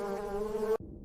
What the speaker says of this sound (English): Guard bees stand watch at the entrance, ready to sacrifice their lives to repel thieves and predators.